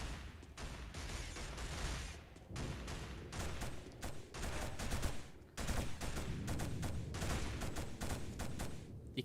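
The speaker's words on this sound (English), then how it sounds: "they got a machine pistol, like a 93R. It's got a secondary fire mode, which fires one shot more accurately" Rapid gunfire from a 93R-style machine pistol in Fallout 76, repeated loud bursts of quick shots with brief pauses, close and dominant throughout.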